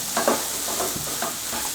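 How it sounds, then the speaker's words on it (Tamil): Egg being stirred with a ladle in a frying pan, a steady sizzle with a few soft scraping strokes, close and alone without voices. "நம்ம தான் கரண்டி வச்சு இப்படி இப்படி கலந்து விட்டுக்கிட்டே இருக்கணும்."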